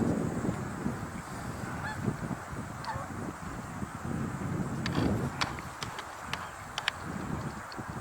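A goose honking outdoors, faint and intermittent under steady background noise, with people talking quietly over it.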